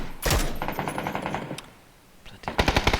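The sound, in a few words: gunfire in PUBG video game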